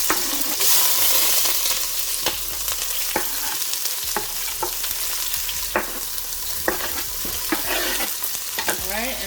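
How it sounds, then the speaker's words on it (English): Aromatics tossed into hot oil for Trini-style curry goat, sizzling steadily and loudly up close with sharp clicks and scrapes of stirring throughout. "I'm gonna let this fry up for like about a minute"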